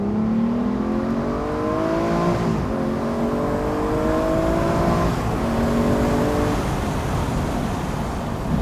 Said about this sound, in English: You would never ever get tired of listening to that noise.